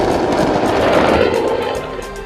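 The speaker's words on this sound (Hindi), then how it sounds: "चारों तरफ आग का गुबार और धमाके ही धमाके।" Repeated explosions at a burning firecracker factory in Harda blend into a loud, continuous crackling roar of rapid bangs, like sustained gunfire heard from nearby.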